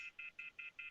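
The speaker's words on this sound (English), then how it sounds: "Somebody's phone's off the hook." A high, steady electronic beep from a phone left off the hook pulses five times in an even rapid rhythm, faint and tinny.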